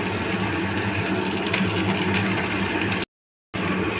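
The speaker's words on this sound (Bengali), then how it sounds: "কড়ার জলটা টকবগিয়ে ফুটে শুরু হয়েছে" Water boiling hard in a kadai on a gas stove, a steady, continuous bubbling rush close by that fills the whole clip, broken by a brief gap near the end.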